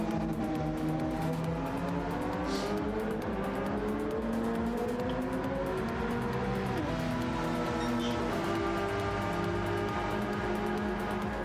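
A Porsche GT race car in GR3 trim roaring through a Daytona 24-hour qualifying session in a racing sim, a steady loud engine drone with rising and falling gear pitches and faint tire squeal throughout.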